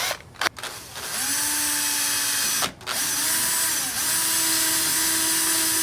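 A power drill whirs steadily, briefly stopping and restarting, its pitch dipping as the bit bores into a half-inch PVC cap, loud and close.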